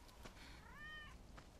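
A cat meows once in Final Fantasy VII Remake, a short rising and falling mew, clear and close, over a faint steady game background with no talk.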